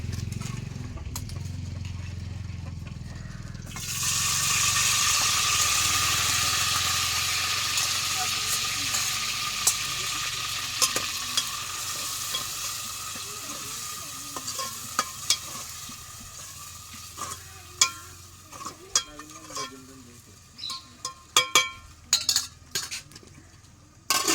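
Onion fries in a pan with cumin and garlic, a loud steady sizzle starting after a few seconds, with scattered scrapes and clinks of a utensil stirring toward the end.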